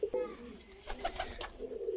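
Pigeons bred for flying coo softly at close range in short, low, throaty calls, with faint voices in the background.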